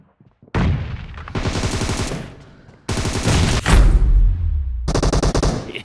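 Rapid bursts of automatic gunfire from a mobile shooter video game crackle loudly in several separate volleys with brief pauses between them, played from a phone with no talk over them.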